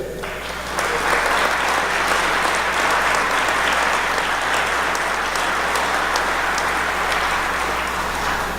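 An audience at a high school athletic hall of fame induction breaks into sustained applause that starts abruptly and holds a full, even level throughout.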